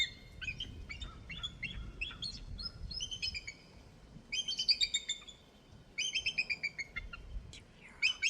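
Wild birds chirp outdoors on a nature walk in repeated bursts of bright, quick tweets, some in rapid trills. The calls are fairly faint against a low rumbling background, with short pauses between phrases and no talking.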